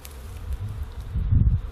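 Honey bees buzzing in large numbers at an orange blossom hive, a dense close hum that swells louder toward the end.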